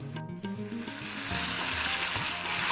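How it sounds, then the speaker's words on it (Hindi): Boiled onion paste sautéed in a pan, a steady close sizzle that grows a little louder as it is stirred, with no talking. "सौते चलाते रहेंगे"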